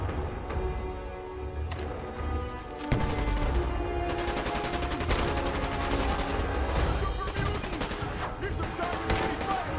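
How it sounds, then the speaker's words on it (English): Gunfire in Fallout 4, a rapid series of sharp cracks and booms, dense and loud, with a voice speaking over the shooting. "Heavy pipe bolt action rifle."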